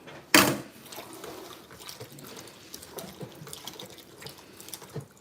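Blended liquid for efo riro poured into a pot, one sudden loud splash followed by a steady, fainter trickling wash with no talk.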